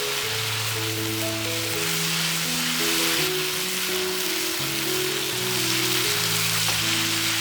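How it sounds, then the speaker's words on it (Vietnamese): Rice paper being stir-fried with sauce in a pan gives a steady, close sizzle under a continuous wash of frying noise, with no one speaking. "Mình xào bánh tráng với sốt khoảng 30 giây."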